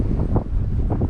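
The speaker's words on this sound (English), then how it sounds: "Wind's picking up, so trying to dash the wind, but this being just such an open area, that ain't happening." Strong wind buffeting the microphone at an open levee fishing spot, a steady loud low rumble with gusty swells throughout.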